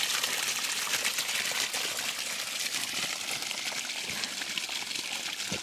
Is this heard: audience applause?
no